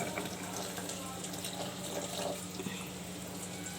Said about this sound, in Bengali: জলটা শুকিয়ে গেছিলো জল দিয়ে দিলাম